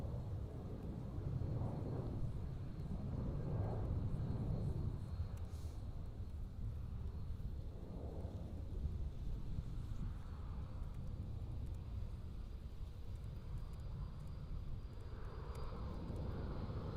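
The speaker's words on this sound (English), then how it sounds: "And over there we can see the TAP Portugal A321 Neo." A TAP Portugal Airbus A321neo jet at Amsterdam Airport rumbles as a low, distant roar with slow swells, faint and steady throughout.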